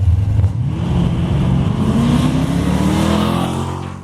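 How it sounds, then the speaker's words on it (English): A 1980 Dodge truck with a 5.9 Magnum V8 launching down a drag strip, its engine roaring loudly and rising in pitch as it accelerates away, holding a strong steady drone before fading slightly. "you can just tell when the truck takes off"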